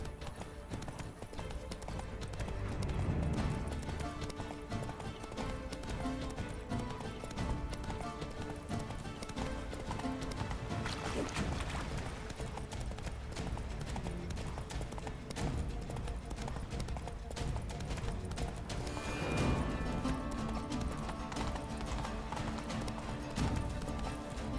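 Roach, the horse in The Witcher 3: Wild Hunt, gallops in a steady, continuous clip-clop of hooves, with game ambience and music running underneath throughout.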